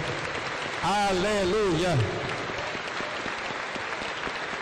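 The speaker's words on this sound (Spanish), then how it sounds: "Aplauso para el Señor Jesús" Church congregation applause during a Sunday service, continuous clapping throughout while a voice calls out in praise and a sung line rises briefly over it.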